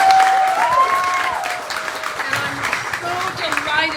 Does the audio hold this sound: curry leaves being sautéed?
no